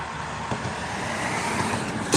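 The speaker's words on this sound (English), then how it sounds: "here comes the cars." Road traffic on a Texas roadside, cars rolling past in a steady broadband wash with a couple of brief louder swells, fairly close and continuous, no talking.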